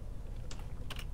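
A computer keyboard being typed on during America's Army: Proving Grounds, a few quiet, close, quick key clicks in a short burst over faint background hum.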